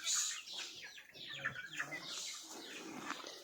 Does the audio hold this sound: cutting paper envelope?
no